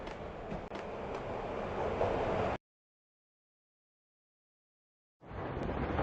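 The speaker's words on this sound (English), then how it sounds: "This was my second train ride of the night." A train ride in the Max Payne Mobile video game gives a steady rumbling rail noise that cuts to silence for a few seconds and then resumes.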